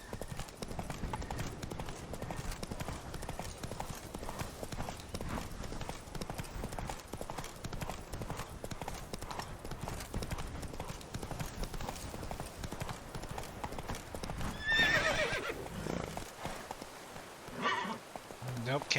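A horse gallops in The Witcher 3: Blood and Wine, giving steady rhythmic clip-clop hoofbeats throughout at moderate volume, with someone speaking now and then over the hooves.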